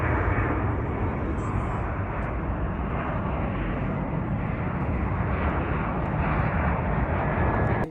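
An airplane at Charlotte airport, heard from an outdoor overlook, gives a loud, sustained engine roar that fills the whole stretch without letting up. No voices are heard.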